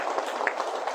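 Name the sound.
church congregation applauding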